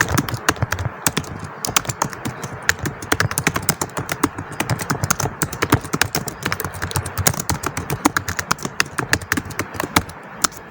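Fingers type an address on a computer keyboard in a fast, steady stream of sharp key clicks, close and clear for about ten seconds with no speech.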